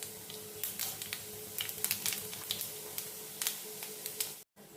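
Mustard seeds, urad dal, chana dal and cumin crackle and pop in hot oil in a pan, a close, dense scatter of small sharp snaps over a soft sizzle, cutting off just before the end.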